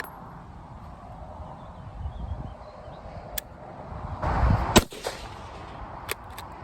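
A single sharp rifle shot cracks out after a delay, fired with Czech BRNO 8mm surplus ammunition prone to hang fire, followed by faint mechanical clicks against a quiet outdoor background.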